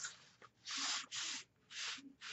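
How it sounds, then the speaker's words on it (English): Scored paper flaps for an album page are folded and creased, giving four soft, breathy rubbing swipes close by, quiet and without speech. "So the 5 1/2 inch score mark I'm folding up."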